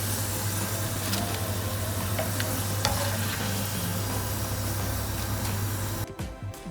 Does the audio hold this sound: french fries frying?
yes